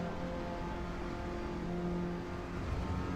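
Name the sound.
car engine revving in video game Assetto Corsa EVO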